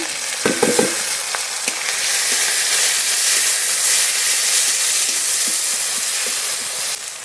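Lightly fried onion in a pan takes in garlic, ginger, cumin and green chili pastes, with a few clanks at first and then a loud, steady sizzle and hiss that runs on until a brief drop at the end.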